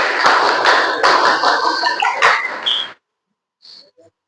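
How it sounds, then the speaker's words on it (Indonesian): A group of Indonesian Scouts (Pramuka) doing their rhythmic patterned clap, loud close bursts of many hands in quick syncopated bursts for under three seconds, then a short quiet gap and a brief faint voice. "Dua kali tepuk Pramuka."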